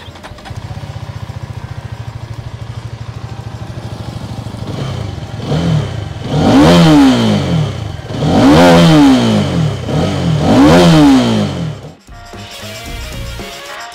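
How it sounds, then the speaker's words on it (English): A Hero Karizma XMR 210 with a 210cc liquid-cooled engine idles steadily in a quiet area, then its exhaust rises in three loud, close rev bursts before dropping back. "तो आपको exhaust tone जो है crisp सुनाई देगा"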